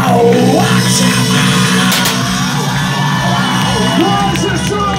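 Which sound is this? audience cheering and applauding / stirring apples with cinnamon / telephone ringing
audience cheering and applauding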